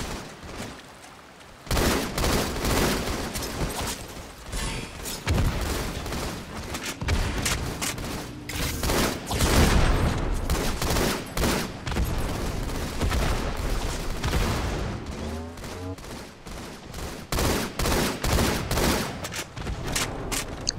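Rapid gunfire and explosions from an online Halo: The Master Chief Collection match crackle in dense bursts and volleys for the whole stretch, loud and nearly nonstop with brief lulls.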